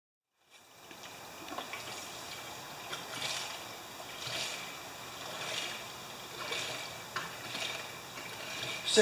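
Gasoline glugs from a jug into a lawn mower tank in a few rhythmic pulses, a soft close liquid gurgle over a faint background hiss.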